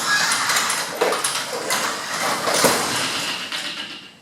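A garage door on torsion springs, its opener released, being moved by hand; a steady rolling rumble with a few louder clunks and rattles from the panels as it travels.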